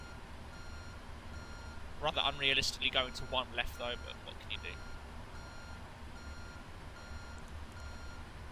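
Simulated ground vehicle reversing beeps at an airport gate in the Prepar3D v4 flight simulator with a PMDG 777-300ER, steady repeating tones under someone talking, with a louder busy burst early on.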